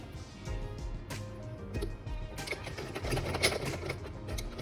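A sewing machine stitches a face mask, its motor running in a steady, close mechanical whir with quick rhythmic ticking, rising slightly louder and busier partway through.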